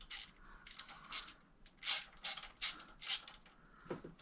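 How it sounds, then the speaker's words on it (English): Hand ratchet tightening bolts on a Mazda Miata during maintenance, a series of close, bright metallic clicking bursts in an uneven rhythm, with no talking. "I'm going to do this with a ratchet."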